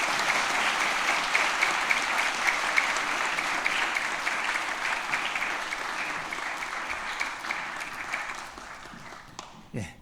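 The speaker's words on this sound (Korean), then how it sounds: "우리 박수로 격려해 주시기 바랍니다" A church congregation applauds newly ordained elders during an anniversary ordination service. The sustained, roomy clapping fills about ten seconds, then thins and fades near the end, with a few scattered last claps.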